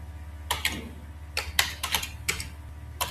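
A computer keyboard clatters as an address is typed into tax preparation software, irregular bursts of crisp key clicks in short runs, close and clear with no voices.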